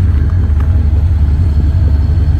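A cammed Chevrolet Impala SS spinning its wheels in snow, a steady, loud low engine rumble throughout with no talk.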